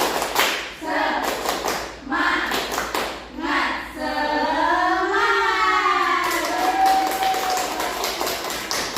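A primary school class does a rhythmic tepuk semangat spirit clap, with bursts of clapping in a set pattern mixed with children chanting and singing together.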